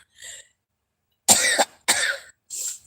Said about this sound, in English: As you can tell, I'm sneezing and coughing and whatever.